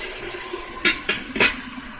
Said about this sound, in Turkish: Şimdi kapağını kapatıyorum